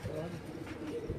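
French pigeons coo softly on a rooftop, a low throaty murmur lasting about a second against background noise, with some voices nearby.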